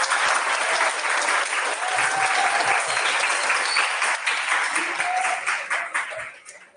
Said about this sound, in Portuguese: Pessoal, umas palmas aí, por favor